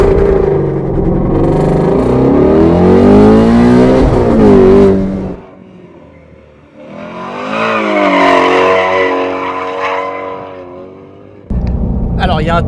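A Ford Mustang Shelby GT350R on a race track revs hard, its loud engine note rising and falling in sweeping pulls, easing off briefly midway before surging again, with a voice speaking over parts of it.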